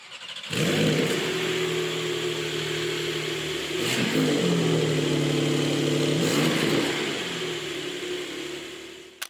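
A turbocharged rear-wheel-drive Porsche engine revs up and settles back several times, a loud, close mid-pitched roar that swells and eases in waves, no talking.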